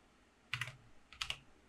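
Two quick pairs of close computer keyboard key clicks against a quiet room, with no voices.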